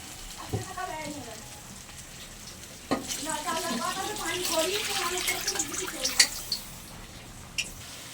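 Water is poured into a pot of sautéed khichuri, bubbling and sizzling over the frying mixture with pouring gurgles and utensil clinks, close by, while a voice talks over it.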